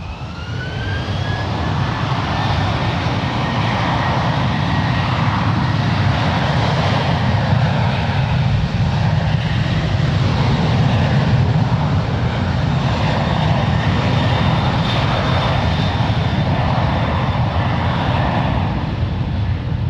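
An airliner takes off at San Francisco International Airport with a sustained, powerful jet engine roar, broad and steady throughout, its whine slowly shifting in pitch as it moves along the runway.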